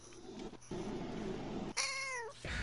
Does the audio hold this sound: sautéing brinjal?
no